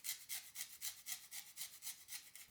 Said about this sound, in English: Next, grate the zest of 1 lemon for that bright citrus punch.